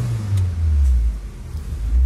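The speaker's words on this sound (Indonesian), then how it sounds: "suara mesin ini kita gas dikit biar gak terlalu mogok" A 2003 Daihatsu Taruna FGX LWB facelift engine gets a light blip of throttle, giving a loud, close, steady low rumble that rises and falls slightly, with no voices.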